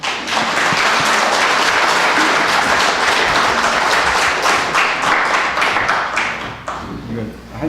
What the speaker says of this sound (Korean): 우리 박수로 환영하십시다